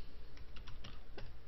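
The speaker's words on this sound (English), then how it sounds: "So I'm typing this in here." Light tapping on a computer keyboard while entering a backup folder name on a Lubuntu system, a handful of soft, irregular keystrokes heard close and fairly quiet over faint room hum.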